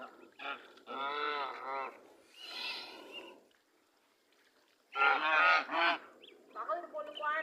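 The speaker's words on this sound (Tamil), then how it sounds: "பங்களாவாத்து கோழி பாத்தின் குஞ்சுகள்." Muscovy ducks and ducklings at a home near Kanchipuram give loud, nasal honking calls in several separate bursts, close by, with brief quiet gaps between them.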